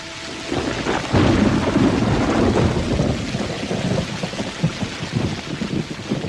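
Warm summer rain pours steadily while thunder rolls and rumbles loudly nearby, a heavy, continuous wash of rainfall with no voices.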